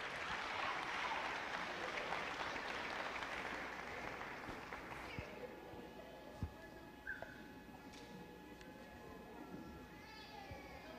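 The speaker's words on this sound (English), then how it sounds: "Let's have one more round of applause for the Little Glass Princess, Jasmine Everd" A crowd at a pageant claps steadily for about five seconds, then the applause fades away, leaving a quiet room with a few faint scattered sounds.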